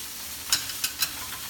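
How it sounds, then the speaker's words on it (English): Fish laab with rice powder stirred in a pan over a steady frying sizzle, with three light scraping strokes of the utensil, close up and without talk. "Keep mixing it all together."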